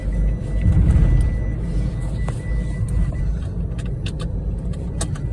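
A Mahindra XUV300 SUV driving on the road, heard from inside as a steady low engine and road rumble with a few faint rattles and clicks in the cabin.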